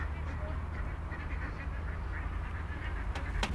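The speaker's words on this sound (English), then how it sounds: "only the ducks squabble now" Ducks quacking and squabbling on the Kennet and Avon Canal near Newbury, a few faint calls scattered over steady outdoor background noise, with one sharper call near the end.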